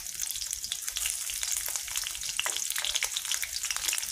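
Raw green chillies fry in a generous pool of hot oil, giving a dense, close, continuous crackling sizzle with sharp spits throughout and no talking.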